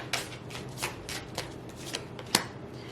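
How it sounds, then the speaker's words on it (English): Tarot cards being shuffled and pulled from a deck, a series of soft papery riffles and flicks with one sharper snap near the end, close and fairly quiet, with no talking. "I'm going to pull 3 cards off the top if no cards pop out."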